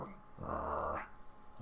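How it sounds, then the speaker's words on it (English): A low animal growl used as a sound effect in a tabletop fantasy game, one sustained rumbling snarl of about half a second rising out of quiet, with no voices over it. "growling or rumbling of some kind of animal"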